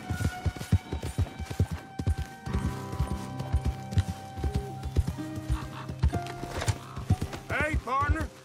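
A horse gallops in Red Dead Redemption 2, with rapid rhythmic hoofbeats close by, steady tack rattling and a loud whinny near the end, under a man's short spoken lines and background game music.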